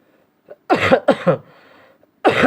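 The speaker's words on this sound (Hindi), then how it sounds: "खांसी अब भी मेरे नहीं गई बच्चे" A few sharp, close coughs in quick succession, followed by a short rough trailing sound and another cough after a brief pause.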